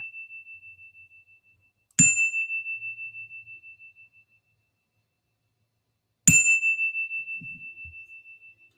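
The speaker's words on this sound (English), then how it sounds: "I love the little chime at the end." A small meditation chime rings twice, each strike a clear, sustained bright tone that rings out and slowly fades over a couple of seconds, with a quiet gap between the strikes.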